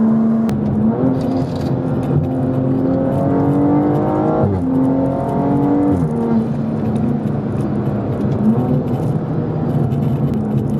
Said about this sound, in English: BMS intake as well provides some amazing induction noise.